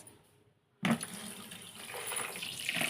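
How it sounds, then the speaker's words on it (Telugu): Tap water suddenly gushes on and runs steadily into a sink as peeled ridge gourds are rinsed beneath it, a close, continuous splash after a brief quiet moment. "ఇప్పుడు మొత్తం కడుక్కుందాం చూడండి"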